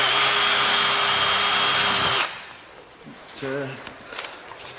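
Power tool polishing grimy 40-year-old narrowboat portholes, a loud steady whine for about two seconds that cuts off abruptly, followed by quiet handling noises and a brief voice.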